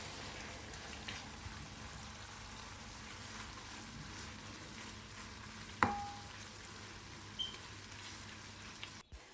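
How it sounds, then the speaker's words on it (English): Two chopped onions fry in oil with a steady, quiet sizzle that runs throughout, broken by one sharp clink near the middle and a soft knock toward the end. "Then add in 2 chopped onions. Fry them till they're beautifully translucent."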